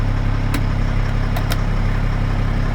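Engine idling steadily while a 200 amp 12 volt school bus alternator charges with the headlights on, a constant low hum with a couple of brief clicks.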